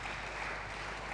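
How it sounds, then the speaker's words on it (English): Brief, fairly faint wash of steady crowd applause at a squash match after a winning finish by Daryl Selby, with no voices over it. "deserved applause there from Daryl Selby"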